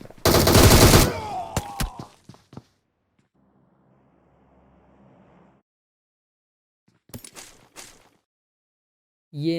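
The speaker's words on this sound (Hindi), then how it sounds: "मुझे सामने घर से अब आवाज़ आने लग जाती है गोलियों की" PUBG gunfire coming from a house: a loud, close burst of rapid automatic shots at the start, then a few scattered quieter shots and a short later burst, with quiet gaps between.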